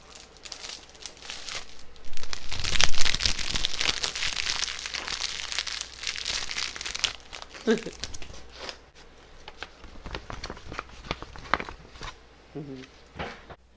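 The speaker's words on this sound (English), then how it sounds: "I'm just going to take it out of the plastic." A quilt pattern pulled from a plastic bag, with bursts of close plastic crinkling and rustling that are loudest early on and then trail into softer handling sounds.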